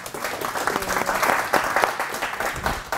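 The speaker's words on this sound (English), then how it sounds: "But let's give Dawoon a big round of applause to welcome her." Audience applause at a Startup Grind startup event in Hong Kong, welcoming a guest speaker on stage; steady mid-distance clapping from a moderate crowd, sustained for about three seconds with no talk.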